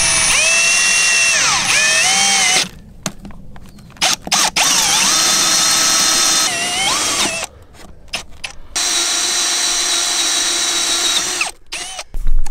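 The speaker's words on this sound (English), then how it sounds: "we got our holes drilled" A power drill boring holes while building an entrance gate, a loud close whine that rises and falls in pitch in long runs broken by short stops and restarts.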